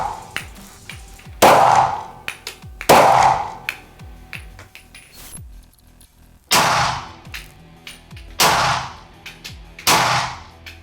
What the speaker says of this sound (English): we shot a 9mm handgun from 7 yards, 3 rounds